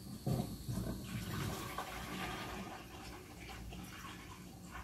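Water is poured from jugs into a 5 gallon bucket to mix sugar syrup for feeding bees, giving a steady, close rushing and splashing that runs without a break for several seconds and thins slightly near the end.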